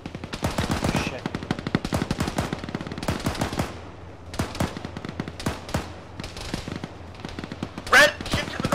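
Rapid automatic gunfire and single shots from an Arma military game, with bursts and cracks of varying loudness throughout, some near and some distant, with a brief voice heard in the mix.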